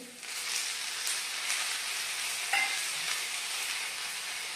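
Tomatoes being stirred into fried onion and cashews in a pan for a dhaba-style cashew curry, giving a steady close sizzle with soft scraping, one brief sharper clink midway.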